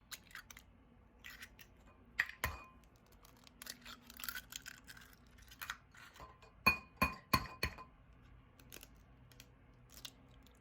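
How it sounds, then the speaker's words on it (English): Eggs are cracked one after another into a bowl while making keto bread, several sharp shell taps and clicks, a cluster of them in quick succession, close but quiet, in a still room with no voices. "So I'm gonna crack these eggs into this bowl"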